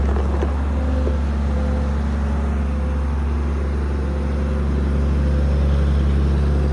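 Idling engine of a combine harvester, a six-cylinder 150-horsepower diesel, running quietly: a steady low drone with a faint hum held evenly throughout, no talk.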